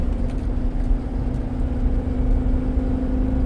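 Failing transmission in a 2013 Chevy Silverado with the 5.3 engine, a steady droning whir and hum holding throughout, loud and close from inside the cab with no talking.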